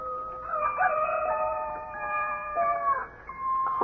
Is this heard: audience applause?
no